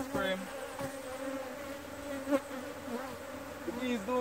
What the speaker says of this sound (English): The bees do not like the plastic frame.